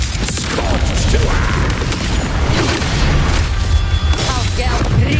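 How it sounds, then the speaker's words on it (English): Mortar blasts and battle booms from a Wuthering Waves fight fill a loud, dense mix of crashes and impacts, with music and effects layered throughout. "There, another mortar thrown at us."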